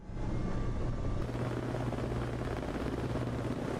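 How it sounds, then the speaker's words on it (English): A helicopter in the video game Arma 3 gives a steady, loud rotor-and-engine drone with a low thrumming pulse, continuous throughout without breaks. "That's my Arma 3 helicopter experience."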